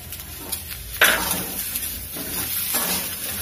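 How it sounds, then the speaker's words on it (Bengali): Vegetables with spices, salt and sugar stirred in a pan for a Bengali spinach-stem chorchori, a loud scrape at the start, then a soft sizzle with a few quieter stirring strokes, close by. "সমস্ত মশলা দিয়ে আগে সবজিগুলোকে আমি নেড়ে ছেড়ে নিচ্ছি।"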